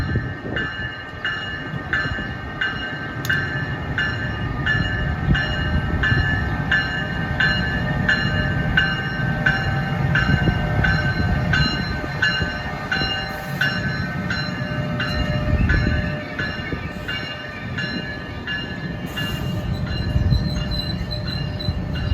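A train rolls past at close range in New Jersey, wheels squealing in a long sustained screech over a heavy rumbling drone that carries on steadily throughout, with no voices.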